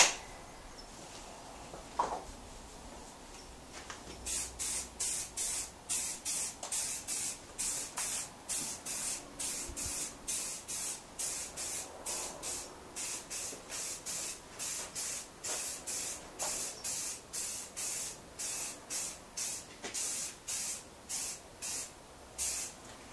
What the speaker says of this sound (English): Gonna hit it with some black Rust-Oleum and hopefully it'll disappear.